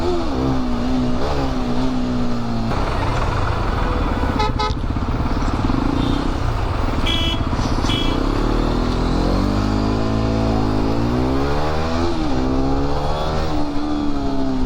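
Road traffic passes along a riverside road in the Konkan, with cars and motorcycles droning and revving up close, several horns tooting, and engine pitch rising and falling as vehicles go by.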